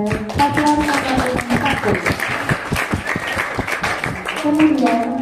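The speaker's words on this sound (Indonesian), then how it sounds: "Berikan tepuk tangan kepada paslon nomor" An audience at a school student council candidate debate breaks into dense, sustained clapping, loud and close, with voices talking over the applause.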